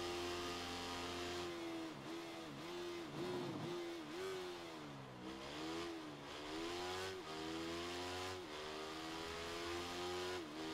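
Motorcycle in the racing video game Ride 3, a Super Sport 300 race, engine note dropping under braking then climbing again on acceleration, a steady buzzing whine with shifting pitch, alone.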